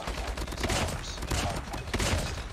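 Rapid hip-fire bursts from a gold HBRa3 assault rifle in Call of Duty Mobile, dense loud repeated shots running the full length in several clustered volleys.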